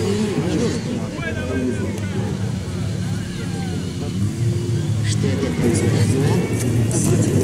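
Drag racing cars accelerate away at a street race event in Blagoveshchensk, their engines droning and rising from a medium distance while nearby spectators chatter throughout.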